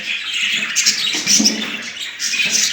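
Budgerigars in a crowded aviary of newly paired couples chirp and warble continuously, a dense bright chatter of many close birds with no voices.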